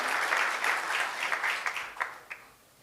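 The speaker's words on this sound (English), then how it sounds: "we really want to thank him and give him a round of applause in the church" A church congregation applauds at a college prep graduation ceremony, a full burst of clapping that thins into a few scattered claps and fades out within about three seconds.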